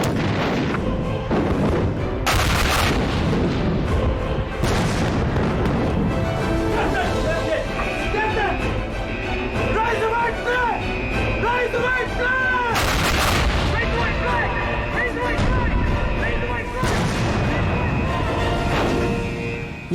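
A war drama battle scene with a Chinese land battery firing on British warships: heavy artillery booms and rifle gunfire crack repeatedly over a dense, loud din, with shouted voices and music mixed in.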